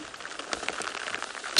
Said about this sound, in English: Now it's a huge drop of rain that is coming in.